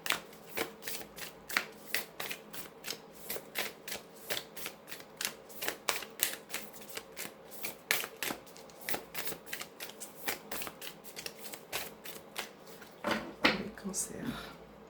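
Cards from a Lunology oracle deck are shuffled and flicked in quick, crisp riffles, close and fairly soft, ending in a brief rustle as one card is drawn out.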